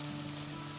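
Onions sautéing over high heat in a hot pan with salt, giving a steady, even sizzle that stays constant and close throughout the short moment, with no voices.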